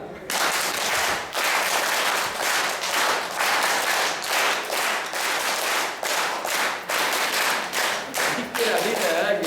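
Group at a Madurai naturopathy camp clapping hands in unison as an acupressure exercise, a steady series of sharp synchronized claps at roughly regular intervals, loud and close, with faint voices underneath.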